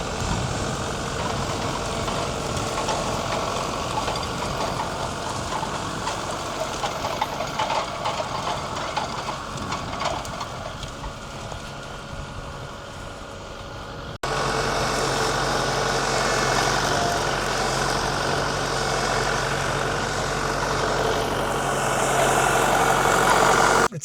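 A tractor engine drones steadily while driving during planting, a continuous mid-low hum that shifts to a slightly louder, rougher tone partway through.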